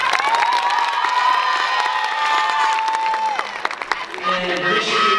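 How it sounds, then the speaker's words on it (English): A high school graduating class and crowd clap and cheer loudly, with whoops and shouts over steady applause, plus a sustained tone audible through the first few seconds. "class of 24, you guys give yourselves a round of applause"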